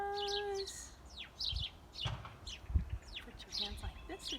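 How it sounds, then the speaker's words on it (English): Birds chirp outdoors at a farm in a scattered series of quick tweets and short calls, moderately near, with low rustling and background noise between them. "Do you hear the birds?"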